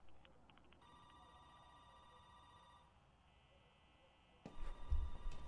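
A telephone rings during a live stream with steady electronic tones, faint and thin, then cuts off as louder handling noise and thumps break in near the end.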